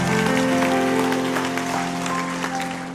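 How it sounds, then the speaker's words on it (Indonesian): A church congregation applauds, dense clapping that is loud at first and gradually tapers, with sustained musical tones ringing underneath. "Berikan tepuk tangan untuk Tuhan."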